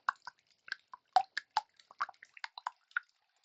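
Whisk beating an egg mixture for a frittata in a bowl, a quick run of light, irregular wet clicks and taps, close and fairly quiet with no voices.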